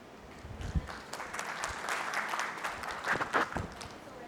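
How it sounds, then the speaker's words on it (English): Applause from a conference audience for a speaker at a CISO and cybersecurity event, a moderate, fairly distant wash of clapping that holds steady throughout with a few sharper claps standing out. "Can we have a round of applause for him one more time?"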